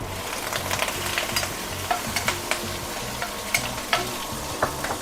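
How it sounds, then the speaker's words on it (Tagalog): Steady oil sizzling as shrimp fry in a pan, with small pops and occasional scraping stirs, close up and without talking. "prito ang aton nga pasayan."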